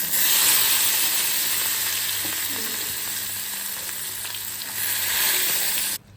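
Hot oil spits and crackles loudly and close as curry leaves and turmeric fry in it, a dense continuous sizzle that cuts off abruptly near the end. No one speaks.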